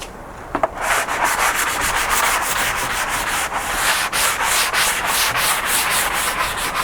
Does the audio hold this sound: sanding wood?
yes